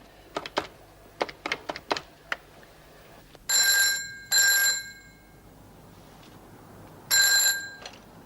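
Dialing clicks lead into a telephone ringing at the other end of a call, three loud ring bursts with pauses between them, heard close and alone.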